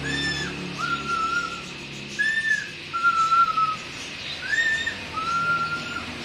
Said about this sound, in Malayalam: ആരാ അവിടെ ചൂളമടിക്കുന്നത്?